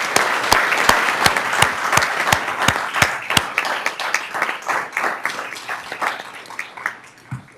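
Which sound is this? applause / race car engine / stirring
applause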